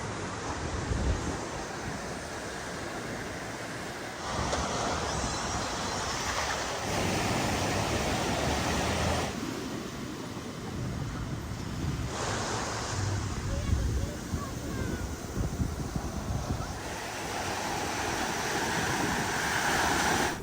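Ocean waves breaking on an Atlantic City beach, a steady broadband wash of surf with rising and falling surges, mixed with wind buffeting the microphone, loud and close.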